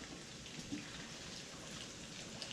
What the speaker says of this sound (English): But you just pour your beer in